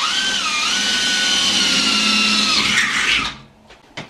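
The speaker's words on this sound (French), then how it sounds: "On prend soin de percer 4 trous à distance approximativement égale dans le haut le plus possible." A power drill bores a hole high on a dust collector cartridge filter, one continuous loud whining run that climbs slightly in pitch, then cuts off, followed by a couple of faint clicks.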